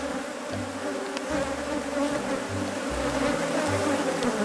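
Steady, dense buzzing of many honeybees close by at a hive with an internal syrup feeder, a continuous droning hum with low pulsing undertones and no voices.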